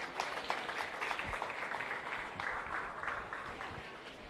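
A crowd claps for 4-H kids at a starter calf show in Adams County, a loose, steady patter of applause that carries on throughout, moderately loud, with faint voices mixed in.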